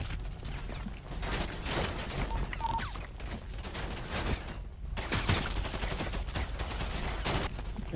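Bursts of rapid gunfire in a video game crackle through a continuous busy mix, with dense volleys and mechanical clatter at moderate, fairly distant loudness.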